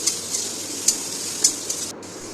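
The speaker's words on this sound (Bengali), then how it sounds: "আর ডাঁটাগুলো আর ফুলকপি ওগুলো দিয়ে দেবো, তো ভালো করে কষিয়ে নেব।" Potatoes that were fried earlier are sautéed with vegetable stalks and cauliflower in a pan, giving off a steady sizzle with a few sharp clinks as the food is stirred.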